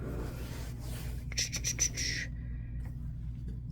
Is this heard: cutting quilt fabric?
yes